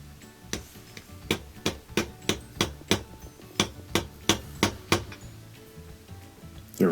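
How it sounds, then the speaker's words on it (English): A small hammer taps a socket down onto the motor coupler of a Whirlpool washer that won't agitate or spin, giving about a dozen sharp, evenly spaced metallic strikes, close and clear, with no talking. "I'm going to use a small hammer, just 5 or 6 taps to get it to sit more flush"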